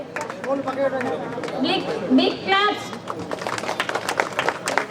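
Boys at a former students' reunion clap for a teacher being honoured, a loose burst of applause mixed with chatter and nearby voices.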